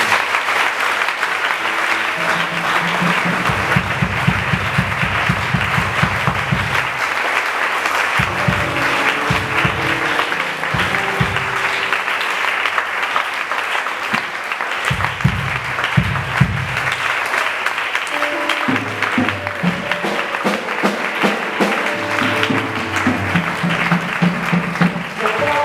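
A church congregation clapping and acclaiming Jesus at a deliverance service, sustained loud applause and cheering throughout with bursts of voices and music-like tones rising and falling underneath.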